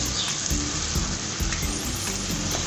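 Masala sizzles steadily in a pan over medium heat while being prepared for besan roti, a dense continuous crackle with faint stirring knocks running throughout, close and fairly loud.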